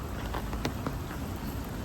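Rain falling in Hong Kong after days of steady showers, a constant soft hiss of rainfall with a few faint drips, even and unbroken, with no talking.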